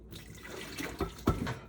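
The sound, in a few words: water being poured into a pot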